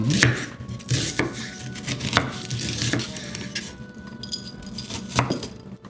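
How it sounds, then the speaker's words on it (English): A knife chopping an onion on a board, a series of sharp, close, irregular cuts about once a second with faint clinks between them and no talk. "hold this in your mouth as you chop an onion"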